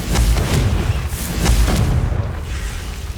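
Booming magical blast from the Confringo fire spell in the video game Hogwarts Legacy, heavy and rumbling. Several deep bursts roll one into another and fill the whole clip at close range.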